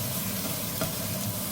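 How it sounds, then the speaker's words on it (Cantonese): Eggplant is stir-fried slowly in a pan for a soybean-paste dish, giving a steady close sizzle with soft stirring scrapes throughout. "將啲矮瓜慢慢炒落去先"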